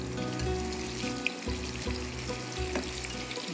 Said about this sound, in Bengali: ইলিশ কচু একই সাথে কিন্তু ভাজা হবে।